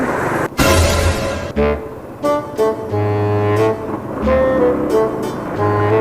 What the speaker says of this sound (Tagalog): ganito ka-traffic dito sa ano, tenement.